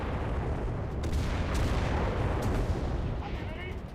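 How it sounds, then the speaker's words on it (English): Booming artillery fire in a video game, a run of heavy, rumbling blasts and scattered sharp shots that merge into a continuous loud roar lasting several seconds. "Artillery, fire!"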